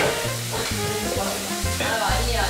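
Food fries in a pan with a loud, close, continuous sizzle that stays steady across the whole short stretch.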